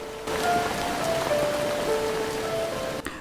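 Rain from a PlayStation 3 game falls steadily as an even hiss of drops on surfaces, with faint tonal music notes drifting over it, then cuts off abruptly near the end.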